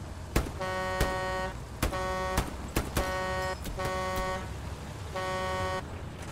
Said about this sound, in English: I was literally honking the horn, and you never moved.